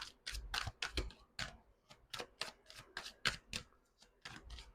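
Tarot cards are shuffled by hand in rapid, uneven bursts of crisp slaps and riffles, close and quiet, with short pauses between clusters.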